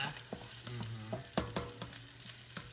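Food is stir-fried with garlic in a pan, with quick irregular scrapes and clacks of a spatula over a soft sizzle and a low steady hum, fairly quiet overall.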